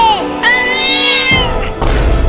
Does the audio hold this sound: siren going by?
no